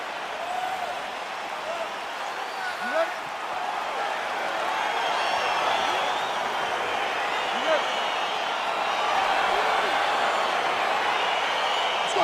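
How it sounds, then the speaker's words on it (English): Arena crowd noise at an EA Sports UFC 4 bout as the fight begins, a broad steady roar of many voices that swells slightly, heard alone without commentary on top. "crowd getting excited as this fight gets underway"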